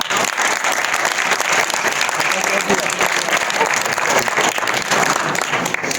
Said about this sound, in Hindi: भाई भरपूर तालियां।